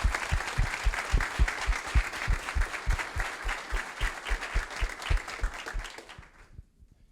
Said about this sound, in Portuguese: Salva de palmas aqui para toda essa turma.